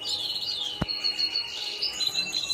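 Canaries in a breeding aviary give bright, high chirps and short trills, faint to moderate, with a sharp click near the start.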